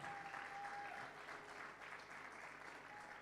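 Applause from an audience at a general meeting welcoming a guest, steady and sustained throughout, moderately distant with a roomy sound, no talk over it.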